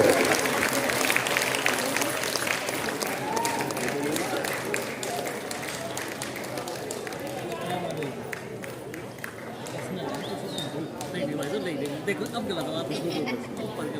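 A large crowd claps continuously, with chatter and voices mixed into the steady wash of applause.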